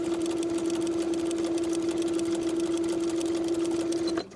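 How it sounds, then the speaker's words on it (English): A sewing machine stitches a quarter-inch seam on a linen shorts pocket, a steady, close, rapid mechanical hum running without pause before stopping abruptly. "Sew with a 1/4 inch seam allowance."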